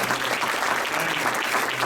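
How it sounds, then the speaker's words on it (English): Sustained applause from a banquet audience at an Edison Rotary Club Senior of the Year dinner, a steady dense wash of clapping filling the room for the whole stretch. "we're all going to give you a big hand of applause prior to anything else"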